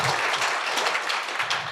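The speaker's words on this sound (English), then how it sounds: "can we give a round of applause to them?" Brief burst of audience clapping at a residential contractor conference, dense and fairly close, trailing off slightly toward the end.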